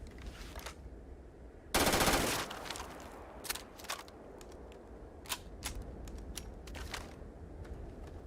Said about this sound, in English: That feels like an SMG.